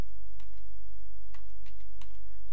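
Typing on a computer keyboard, several faint, sparse key clicks spread over a couple of seconds above a low steady hum, with no talking.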